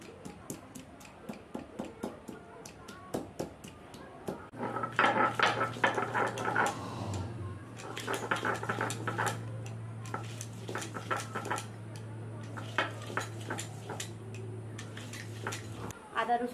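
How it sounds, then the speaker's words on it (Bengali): Ginger, garlic and green chillies ground on a grinding stone, a rhythmic scraping and knocking repeated steadily at close range, with a low hum running beneath. "আদা রসুন আর কাঁচা লঙ্কাটা বেটে নেব।"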